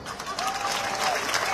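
Concert audience applauding at a Jasna Zlokić show, a dense, steady wash of clapping from a crowd that swells slightly and holds loud throughout, with no talk over it.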